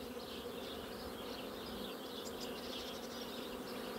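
Bees fly out of a hive in cool 12-degree weather, a steady, faint, close buzzing of many insects that continues without a break and has no talk over it.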